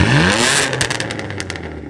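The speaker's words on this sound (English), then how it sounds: "we installed the Borla exhaust with the boosted 6 downpipes" An Infiniti Q50 fitted with a Borla exhaust and downpipes gives one sharp, loud rev that quickly falls away into a settling idle, with crackles from the exhaust as it drops.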